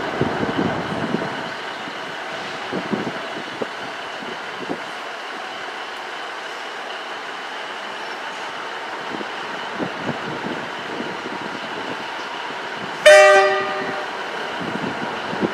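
A Class 67 diesel locomotive, 67 008, on an Arriva Trains Wales service to Manchester Piccadilly, rumbles steadily past at close range, and a short, loud horn blast sounds near the end.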